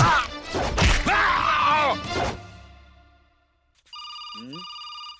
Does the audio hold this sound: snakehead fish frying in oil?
no